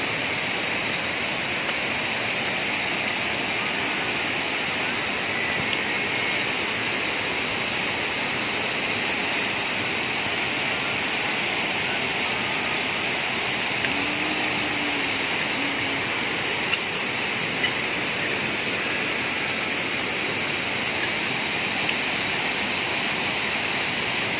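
River water babbling and flowing at the Waitasoi river during an overnight stay, a steady, dense rushing sound that continues unbroken and fairly loud throughout, with no talk.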